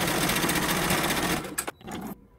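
An embroidery machine stitching the tack-down step of an appliqué, giving a steady loud whirring patter that stops with a few clicks and a short mechanical whir at the end.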